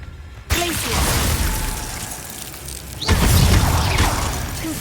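A Glacius freezing spell cast in Hogwarts Legacy, a loud icy burst with crackling shimmer that swells at the start and again midway over dense game sound.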